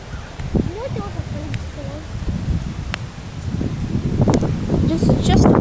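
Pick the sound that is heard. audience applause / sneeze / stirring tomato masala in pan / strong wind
strong wind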